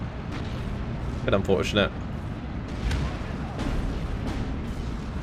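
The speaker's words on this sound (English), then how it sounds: "Got now rocket artillery coming in as well." Rocket artillery strikes in the World War II strategy game Steel Division give low, rumbling booms and crackling impacts that roll on continuously under a voice.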